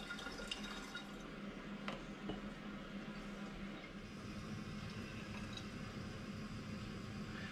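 Homemade mango and ginger cider runs through a siphoning tube into a glass bottle with a faint, close trickle and light liquid dribbling, very quiet against a low background hum.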